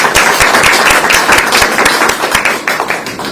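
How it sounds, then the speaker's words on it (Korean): A crowd at a political rally in Seogwipo, Jeju, claps for a candidate, dense and loud applause with sharp individual claps standing out throughout. "우리 김성권 후보에게도 큰 박수 부탁드리겠습니다"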